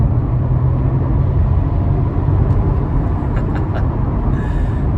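A 2018 Audi A5 Sportback with a 2-liter four-cylinder engine, heard from inside the cabin while driving. The engine gives a steady, smooth low rumble with road noise, at an even level throughout and with no talking.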